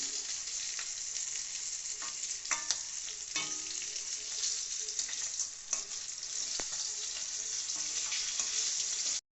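Rohu fish sizzling steadily in hot oil in a pan, a continuous crackling hiss broken by a few sharp clinks and scrapes.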